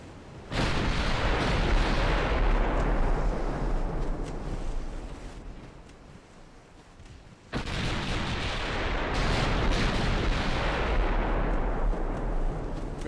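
Warship secondary guns firing in the naval battle game Ultimate Admiral Dreadnoughts: a dense, continuous rumble of booming artillery volleys that dips briefly, then surges again with a fresh blast, loud with no voices.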